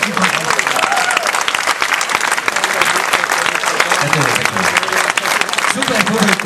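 A live audience at a summer operetta concert in Bratislava claps in sustained, dense applause, loud and close throughout.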